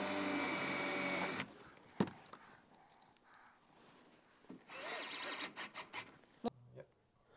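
A screw being driven into a handrail bracket, with a loud burst of power driver whir at the start, then quiet handling knocks, a second rattling stretch of driving, and a few sharp taps, up close.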